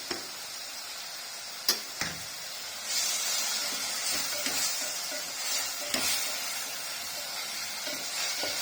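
Onions, crushed ginger and garlic fry with salt in a pan while being stirred for a kurma, with a continuous close sizzle broken by a few sharp scraping knocks of the spoon.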